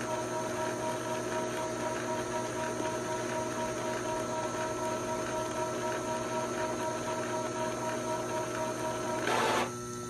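An Epson 3216 inkjet printer runs its automatic head-cleaning cycle, a steady close mechanical hum and whine that holds evenly throughout, with a brief louder surge near the end.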